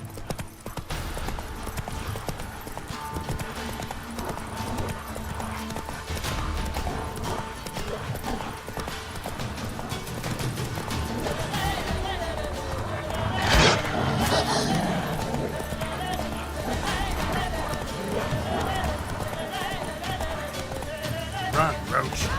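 Hooves of the horse Roach in The Witcher 3 clatter in a steady galloping rhythm over a dense game soundscape, growing louder midway before settling back.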